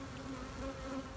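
Honeybees stream from a bee tree during a trap-out, a steady droning buzz of many insects close by, with no voices.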